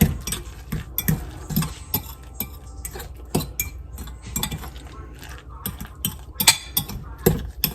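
A fork beats eggs into chaffle batter in a bowl, giving a string of bright metallic clinks and scrapes in an irregular stirring rhythm, close and fairly loud.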